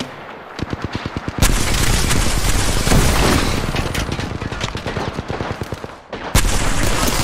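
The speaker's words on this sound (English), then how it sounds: "Shot fired, and they're hitting me." Video game gunfire crackles in rapid automatic bursts, loud and close, with a dense sustained volley through the middle and short gaps between strings of shots.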